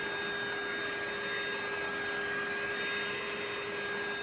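A Lindhaus Valzer L-Ion cordless vacuum cleaner runs with a steady, high-pitched motor whine and constant airy rush, close and unchanging, with no speech over it.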